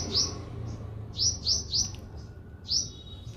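Small birds chirp in quick, high tweets, a handful of short calls spaced irregularly over a quiet outdoor background with no talking.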